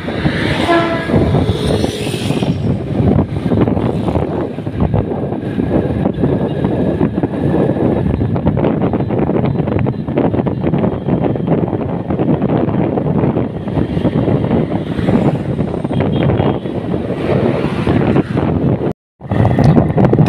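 Constant heavy wind buffeting a microphone while riding on a motorbike along a road, a dense roaring rush that continues almost without break and cuts out briefly near the end.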